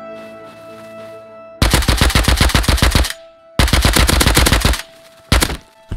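Automatic gunfire in the video game Rust rattles in dense, rapid bursts, loud and close, separated by short gaps over a faint tonal game background.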